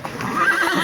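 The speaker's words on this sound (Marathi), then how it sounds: "घोडे असतात." A horse whinnies in Matheran, a bright, rising neigh close by that fills the short moment over a light background.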